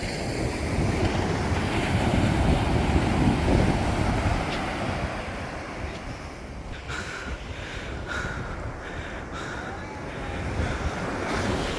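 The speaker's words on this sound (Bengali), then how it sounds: "এত বিশাল বিশাল ওয়েভ হচ্ছে এখানে" Big sea waves slapping against a speedboat near Sonadia Island, a continuous loud rush of water and wind with an engine hum underneath, easing somewhat partway through.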